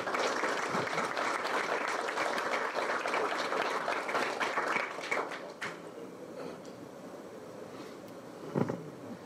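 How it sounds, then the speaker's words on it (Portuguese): An audience at a hypnotherapy session claps in a dense, steady burst of applause that thins out after about five seconds, leaving sparse scattered claps and a brief final flurry. "Palmas para ela."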